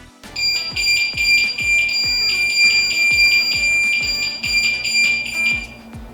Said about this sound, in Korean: 강력한 SOS 경보음을 울려 주변에 즉시 위험을 알리고 골든타임을 확보해줍니다